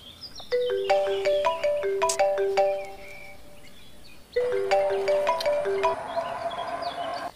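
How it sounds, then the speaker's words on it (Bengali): A melodic phone ringtone plays twice, a bright rising chime pattern repeating after a short pause, fairly close and clear with no voices. "কে ফোন দিতেছে? আরে বেটা মায়ের ফোন দিতেছে বারবার"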